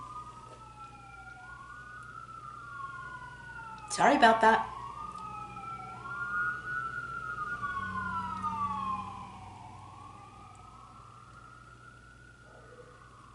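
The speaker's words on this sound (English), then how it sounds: "we're going to wait for the siren." An emergency vehicle siren wails in repeated rising and falling sweeps, loud and fairly near, passing by over a low rumble, with a brief voice speaking partway through.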